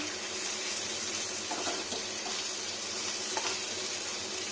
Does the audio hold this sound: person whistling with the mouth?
no